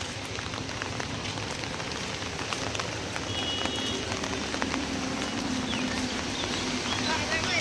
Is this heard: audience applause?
no